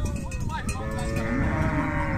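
A herd of cattle arrives with cowbells clanking and animals lowing and bleating, a busy mix of livestock calls near and far while someone talks over it.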